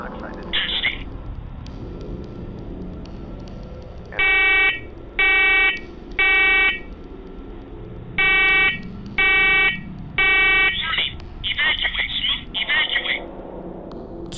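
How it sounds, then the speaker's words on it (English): A basement alarm sounds in evenly spaced groups of loud, tonal electronic beeps, with harsher chirps and clatter near the start and end and faint room noise and talk between the bursts. "Keep in mind that this alarm has not gone off since the last time he went downstairs."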